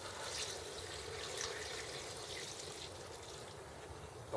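Vinegar poured into an Instant Pot over rinsed vegetables for mustard pickles, a steady soft splashing stream, faint and continuous with no voices.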